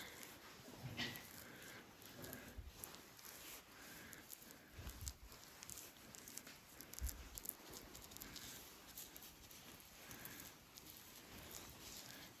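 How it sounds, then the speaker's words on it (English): Steady soft patter of light rain spread across the whole stretch, a dense even hiss of drops with occasional slightly louder taps, no voices. "starting to rain"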